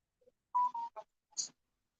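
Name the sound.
phone and tablet beeping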